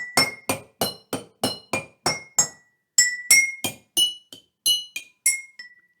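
Glass jars are struck one after another to sound musical notes, giving about sixteen bright, ringing clinks in a steady rhythm, each decaying quickly, close and alone with a short pause midway.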